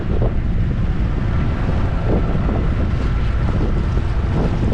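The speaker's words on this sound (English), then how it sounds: "I am now experiencing great winds and of course right on the nose" Strong wind roars steadily across the microphone while a sailboat motors on Lake Ontario into a headwind, with broadband buffeting and some water wash under it and no talking.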